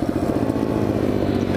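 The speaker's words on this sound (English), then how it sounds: "Hey, another motorcycle." A motorcycle engine drones steadily and loudly nearby as it passes, its low rumble holding an even level throughout the short moment with no voices.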